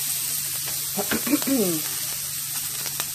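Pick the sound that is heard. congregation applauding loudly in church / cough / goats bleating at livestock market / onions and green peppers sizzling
onions and green peppers sizzling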